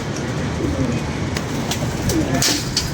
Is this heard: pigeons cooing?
yes